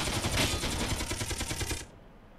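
Rapid laser fire from an enemy ship in the Space Tinkers game, a dense, loud stream of repeated zapping shots in fast rhythm lasting nearly two seconds before cutting off abruptly to quiet.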